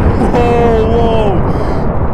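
Lightning thunder in Minecraft: a loud, sustained booming rumble that fills the whole moment, while a voice cries out over it.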